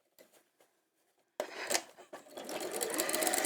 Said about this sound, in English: carry on sewing.